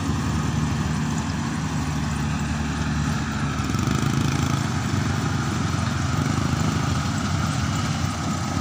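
Combine harvester at work in a rice field during harvest, a steady, loud, low engine drone running continuously without a break and without any voices.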